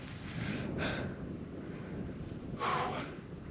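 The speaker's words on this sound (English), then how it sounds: "It's a tiny bit of wind, just a tiny bit of wind." Wind blows across a mountain summit in the Brecon Beacons, buffeting the microphone in a low, rough rumble with two stronger gusts, steady and fairly quiet throughout.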